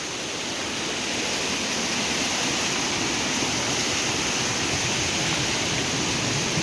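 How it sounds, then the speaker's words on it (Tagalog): Steady, loud roar of Twin Falls waterfall in Kalayaan, Laguna, a dense continuous wash of rushing water that fills the whole clip with no voices over it. "Eh, narinig nyo may agos?"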